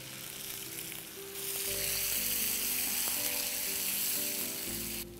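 Tomatoes added to a pan with garlic and frying, giving a steady, broad sizzle that swells louder as they hit the hot pan, close up, with no talk.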